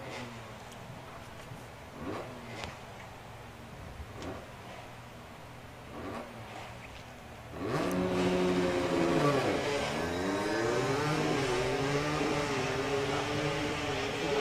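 Junior dragster racing an eighth-mile run at the STP Summer Nationals drag strip: faint ambience with scattered knocks gives way to a sudden loud engine roar with rising and falling pitch that holds steady to the end.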